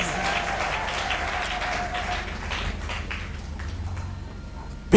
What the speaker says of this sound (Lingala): Applaudissez très fort.